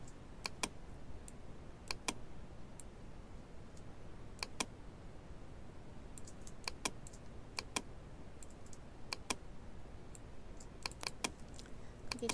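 Keys on a computer keyboard being tapped during Photoshop work make sparse, crisp clicks close by, landing singly and in quick pairs over a quiet background hiss, with no voice over them.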